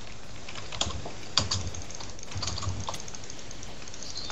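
Typing on a computer keyboard, quiet irregular key clicks at close range over a faint background hiss, with no talk.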